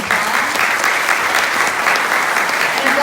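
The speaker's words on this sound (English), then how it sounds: "Can we give our panelists a round of applause?" An audience at a panel discussion gives the panelists a round of applause, a dense, steady wash of many hands clapping at full strength for about three seconds.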